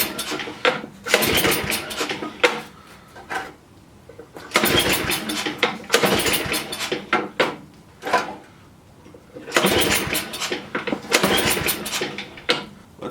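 A cheap used snow blower engine cranks and catches repeatedly, sputtering briefly each time before dying, with several start attempts separated by quiet gaps.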